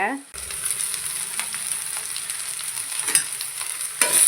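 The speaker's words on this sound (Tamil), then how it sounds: "அந்த அளவுக்கு நல்லா வதக்கி விட்டுக்கிட்டே இருங்க" Ivy gourd sautés in a pan with a continuous bright sizzle and occasional scraping stirs, loud and close, after a brief opening noise.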